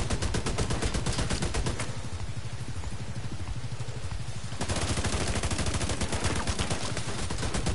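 Rapid automatic gunfire in Warlords of New York striking the player, a dense, loud, nearly continuous burst that eases briefly in the middle and then resumes at full intensity.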